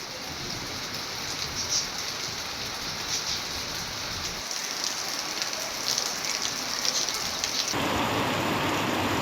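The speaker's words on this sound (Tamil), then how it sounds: "கும்பகோணத்தில் இன்று அதிகாலை முதல் மழை பெய்து வருகிறது" Heavy rain pours steadily in Kumbakonam, a dense continuous hiss of drops on surfaces that swells louder near the end, with no voices.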